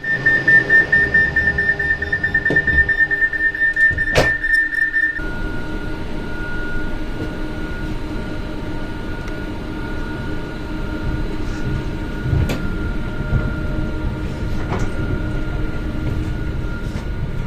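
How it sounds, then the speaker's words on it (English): Inside a train in Birmingham, a steady low rumble and hum build as it accelerates, with a tonal whine and an occasional sharp click over constant rolling noise. "here is the train accelerating"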